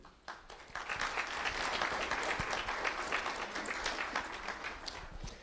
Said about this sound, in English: Round of applause for Adeline Wallace.